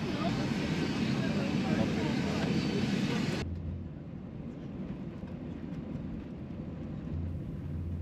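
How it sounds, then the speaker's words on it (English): An Airbus A310 airliner taxiing to the runway, heard from inside the cabin as a steady, broad engine rumble that drops to a quieter, lower hum partway through. "We were taxiing for what felt like forever"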